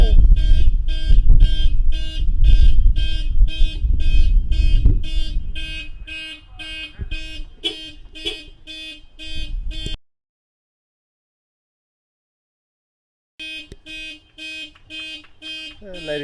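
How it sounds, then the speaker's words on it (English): A car alarm honks in a fast, regular electronic pulse at a cricket ground during an over-50s match, loud over a wash of background noise. It cuts out abruptly, then starts again after a few seconds of silence. "as soon as that car alarm decides to just limit the amount of noise being pushed out"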